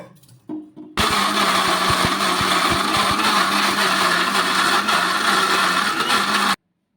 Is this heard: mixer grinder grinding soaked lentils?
yes